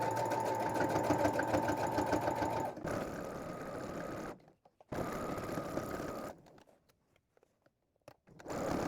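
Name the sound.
sewing machine stitching an X on fabric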